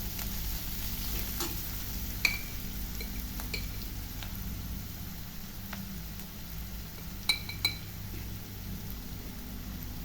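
Ridge gourd curry with turmeric and chili powder is stirred in a pan, a low steady sizzle with a few sharp clinks of the spoon against the metal.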